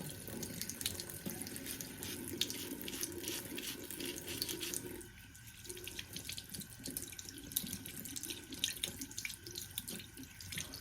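Warm tap water runs steadily into a sink while an Invisalign aligner tray is rinsed under it, a continuous close splashing hiss that briefly softens midway before resuming, with no talking.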